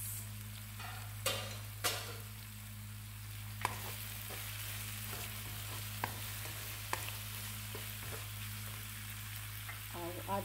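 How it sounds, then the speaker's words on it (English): Quiet, steady sizzling of pepper frying in a pan on low heat, with occasional light clicks and scrapes of stirring. "Frying on low heat."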